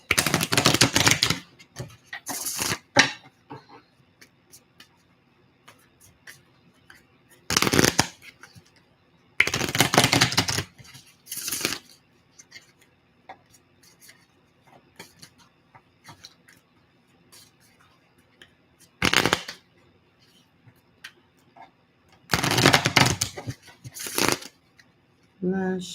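Tarot cards are riffled and shuffled in several sharp bursts separated by quiet pauses, close and crisp, with faint room sounds between the bursts.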